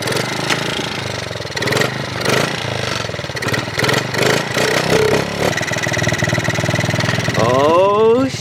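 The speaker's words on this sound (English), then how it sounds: "we fixed the throttle and it should idle a little bit better now" A Honda CRF50 minibike engine idles after a throttle repair, running loud and close with an uneven, slightly rough beat, and a brief rising rev near the end; a voice talks over it.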